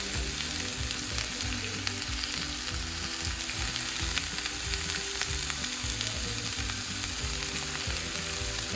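Onions and green chile fry in a pan beside cooked fajita meat, giving a dense, steady sizzle with faint crackles throughout, close and continuous, with no voices.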